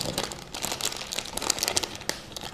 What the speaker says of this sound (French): Je vais déballer un pour que vous puissiez voir à quoi ça ressemble.